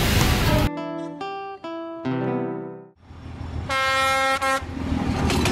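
A train passes along the railway line running through Le Duan street in Hanoi, loud and close, with long tonal horn blasts sounding over a rumbling, steady roar of the passing cars.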